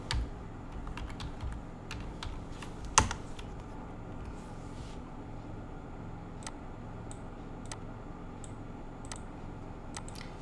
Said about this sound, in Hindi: यहाँ पे हम टाइप करेंगे CFO टू नेट प्रॉफिट।